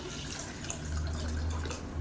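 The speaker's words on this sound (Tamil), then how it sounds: "இப்போ நல்லா கழுவிட்டு வந்தாச்சு தண்ணி ஊற்றிக்கலாம்" Water is poured over washed red rice for dosa batter, a close, soft liquid trickle with light dripping and splashing in a kitchen, no talking.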